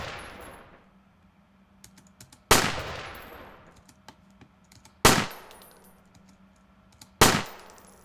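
Rifle shots from a shooter video game sound effect, three loud sharp blasts with decaying tails, each followed by scattered small metallic clinks of bullet casings falling, over a low hum.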